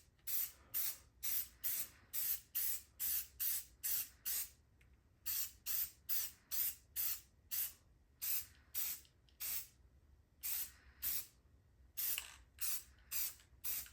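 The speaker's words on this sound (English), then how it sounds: "we're gonna hit it with some varnish type stuff, some clear coat" Clear coat varnish sprayed from an aerosol can onto a skull mount, a quick run of short hissing bursts in steady rhythm with brief gaps, close and fairly soft.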